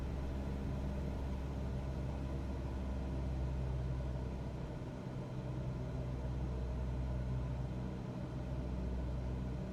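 A steady, low engine drone from an aircraft in Microsoft Flight Simulator on the Balkans bush route from Otocac to Zadar, throttled back to a smooth, even hum that holds at a moderate level with no other sounds.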